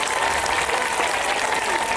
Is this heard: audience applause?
yes